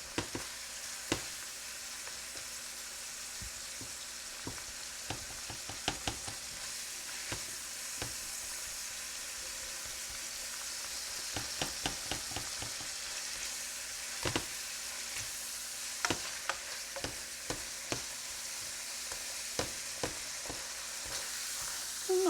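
Ground beef sizzles steadily in a pan for Hamburger Helper, with a constant frying hiss broken by frequent sharp clicks and scrapes of a utensil chopping the meat apart.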